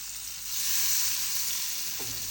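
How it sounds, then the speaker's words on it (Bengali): Vegetables frying in butter over a low flame, a soft, steady, fairly faint sizzle with a brief stir near the end. "বাটার দিয়ে যদি যে কোনো কিছু ভাজলে তোমরা একদম স্লো জালে ভাজবা"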